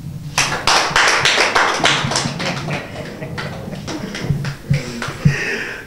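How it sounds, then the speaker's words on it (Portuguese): Audience applause for Patrício Bolívia at a BMS rap battle event, a dense burst of many hands clapping that swells quickly and carries on steadily for several seconds, loud and close, with a few sharper claps near the end. "aplausos para o Patrício Bolívia"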